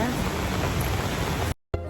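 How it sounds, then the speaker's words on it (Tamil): Heavy rain pours outdoors along a street on the way to a bus stop. It is a dense, loud, even roar that cuts out abruptly for a moment before returning. "செம்ம ஃபோர்ஸாக இருக்குது மழை."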